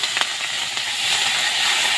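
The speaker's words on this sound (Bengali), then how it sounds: "এটা আমি ভালো করে এবার ভেজে নেব।" Green chilli and ginger frying in hot oil with five-spice, giving a steady, close sizzle that runs the whole time with a couple of brief crackles and no talking.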